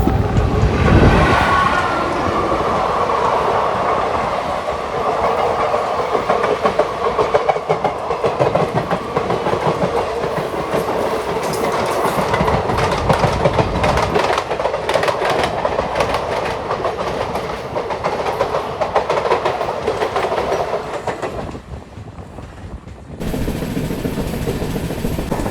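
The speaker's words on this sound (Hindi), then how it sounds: "सामने से आ रही है आपकी मंगलुरु कैंट से चलकर कन्याकुमारी को कनेक्ट करने वाली आपकी परशुराम" Parashuram Express, running from Mangaluru to Kanyakumari, approaching and passing close by, a loud sustained rumble with rhythmic clickety-clack of wheels over rail joints, fading near the end.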